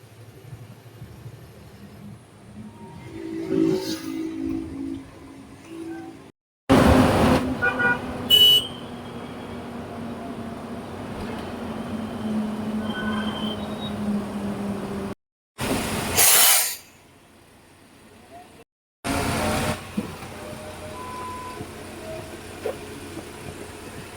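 Vehicle driving along a road toward Electronic City, with a steady engine and road rumble, several loud bursts of horn honking and passing traffic, and brief gaps of silence.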